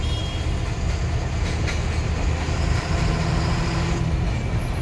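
The Guwahati Express train rolls past near the Farakka bridge, a loud, steady rumble of wheels and carriages that holds through the whole stretch with no voices.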